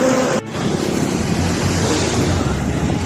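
Floodwater from a stream rushes steadily past a bridge after a cloudburst, a continuous loud roar mixed with wind buffeting the microphone.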